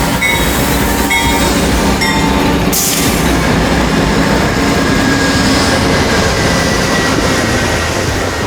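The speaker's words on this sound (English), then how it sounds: "The choo-choo train is here." A passenger train rumbles loudly past at close range in Wisconsin Dells, a dense roar of wheels and rail noise with a high whistle-like tone early on.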